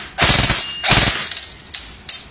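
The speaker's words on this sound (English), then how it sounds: "Put in my next mag. I'm going to tap that bolt catch." A KWA Ronin PDW 6 CQB airsoft gun handled after a magazine change, with a sharp metallic clack as the bolt catch is tapped, followed by a few quieter mechanical clicks and knocks, close and with no voices.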